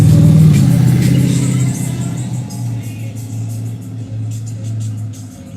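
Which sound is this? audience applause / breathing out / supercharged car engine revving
supercharged car engine revving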